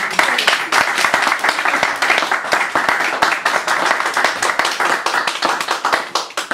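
An audience applauds poet Helen with dense, sustained clapping, individual hand claps snapping sharply through a steady wash of applause for the whole stretch.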